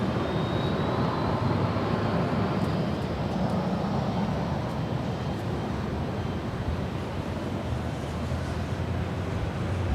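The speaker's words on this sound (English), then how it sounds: "This is Delta Airlines 1721 coming in from San Francisco. It is a 737-900 ER." A Delta Airlines Boeing 737-900ER arriving at LAX makes a continuous broad jet rumble and whine, steady and fairly close for the whole stretch, with no one talking.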